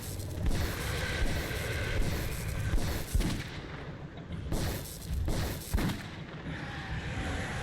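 Heavy gunfire in the Metro 2033 video game, with repeated booming shots and sharp cracks over a dense, continuous battle din, loud and close, and no speech.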